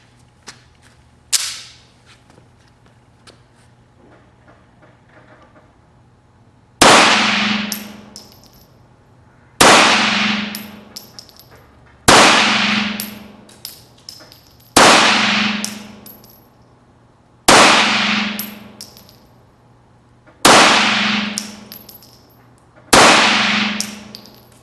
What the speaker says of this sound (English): We're going to try some single hand shooting and see how accurate we can be with the gun.